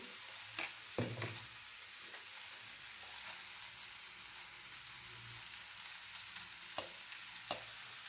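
Chili, coriander and turmeric powders are stirred in a sizzling pan for a soya chunk curry, a soft continuous fry with occasional scraping clicks of the spoon, fairly quiet and close.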